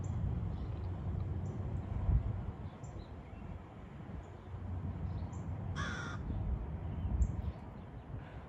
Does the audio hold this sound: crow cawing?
yes